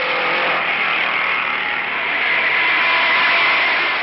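A supercharged Novi V8 race car at the 1956 Indianapolis 500, heard as a steady, loud, roaring engine drone on a straightaway, continuous over four seconds with no talking and a dull, band-limited tone.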